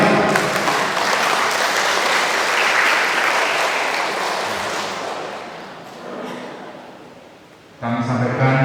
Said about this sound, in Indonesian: Kita beri aplaus yang luar biasa.